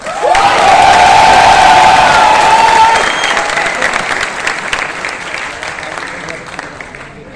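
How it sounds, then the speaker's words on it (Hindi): A stand-up comedy crowd bursts into loud applause and cheering, with whistles and shouts up front, then the clapping gradually thins and quiets over several seconds. "लेकिन ऐसे नहीं, तालियां होनी चाहिए जोर।"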